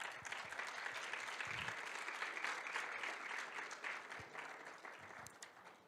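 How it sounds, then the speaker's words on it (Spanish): Audience applause at an industrial petrochemical expert panel, steady dense clapping that holds for several seconds and then gradually thins out toward the end. "Un fuerte aplauso, de favor."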